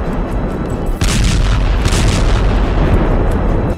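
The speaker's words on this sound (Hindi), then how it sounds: "बस बम बरसते हैं।" Bomb blasts in the Russia-Ukraine war: a heavy boom breaks in after a low rumble and swells into a sustained, loud roar of explosions that carries on to the end.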